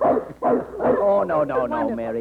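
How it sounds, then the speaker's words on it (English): A large dog barks and yips several times in close succession, loud and near, mixed with a person speaking. "what is that? A dog."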